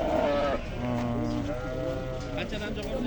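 Young Arashan ewe lambs about ten to eleven months old bleat repeatedly at a livestock sale, close and clear, with people talking over and between the calls.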